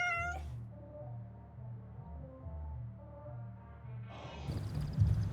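Cats meow in long drawn-out, wavering cries, fairly faint and somewhat distant, with a louder rustle near the end.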